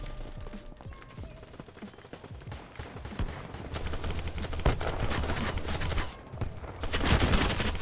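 Gunfire fills a match of the video game Battlebit Remastered, with rapid automatic bursts and scattered shots crackling continuously for several seconds and growing denser and louder partway through.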